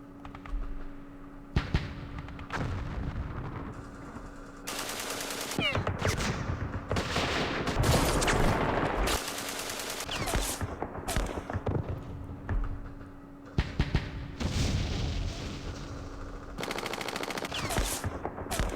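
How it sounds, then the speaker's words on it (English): Mortar fire in the war game Campaign Series Vietnam, set at Dien Bien Phu. Loud, repeated bursts of explosive gunfire come in dense clusters across the whole stretch, with a voice talking now and then. "These mortars."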